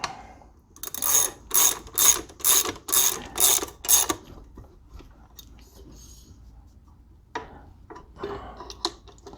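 Tightening bolts on a Yamaha Raptor's chain and sprocket setup: a ratchet wrench clicks in seven quick, even bursts, then falls quiet before a few faint metallic taps.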